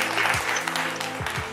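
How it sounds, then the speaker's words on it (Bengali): Moderate clapping from a crowd during a Holi special family quiz game in a shop, a continuous patter of hands with a few low thuds underneath. "আরে জোরে হাততালি হয়ে যাচ্ছে"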